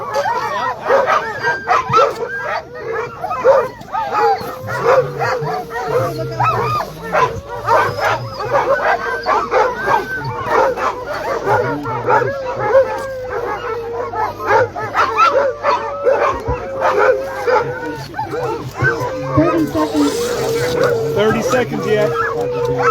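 A large pack of sled dogs at the start of the Copper Basin 300 race in Alaska barks, yips and howls in a loud, unbroken chorus that lasts the whole stretch, with many dogs calling over one another.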